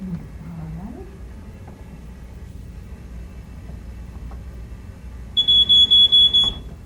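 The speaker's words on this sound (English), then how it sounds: "Why don't you show me how you test your detector?" A household smoke detector is tested, letting out a burst of loud, rapid, high-pitched beeps near the end after a quiet room with faint background noise.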